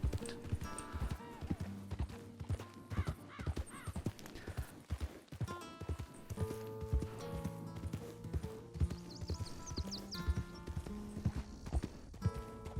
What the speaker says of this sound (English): I hear a lot of horses.